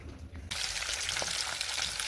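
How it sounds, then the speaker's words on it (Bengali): Fish frying in hot oil: after a brief quiet moment, a bright, steady sizzle bursts in close by and continues with small crackles and pops. "মাছ ভাজাটা হচ্ছে।"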